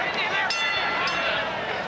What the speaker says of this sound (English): Larry Holmes, the bell for the fifth round